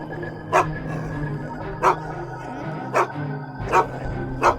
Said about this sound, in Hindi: अरे ये तो सिर्फ कुत्ता है।